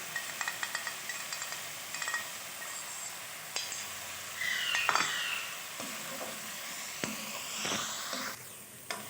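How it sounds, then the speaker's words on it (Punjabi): Masala spices with coriander powder sizzle softly in oil in a pot while a spoon scrapes and clinks against the sides in irregular strokes, with no talk. "ਹੁਣ ਇਹਨੂੰ ਅਸੀਂ ਅੱਛੀ ਤਰ੍ਹਾਂ ਭੁੰਨ ਲਾਂਗੇ, ਉਨੀ ਦੇਰ ਭੁੰਨਾਂਗੇ ਜਿੰਨੀ ਦੇਰ ਇਹਦਾ ਆਇਲ ਵੱਖਰਾ ਨਹੀਂ ਹੋ ਜਾਏ"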